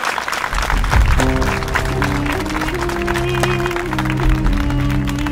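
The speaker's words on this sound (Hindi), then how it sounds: "इनका जोरदार तालियों से स्वागत करके इन्हें इस सभा में" Loud applause from a crowd at a public meeting welcoming a leader, mixed with steady musical tones throughout, continuous and close.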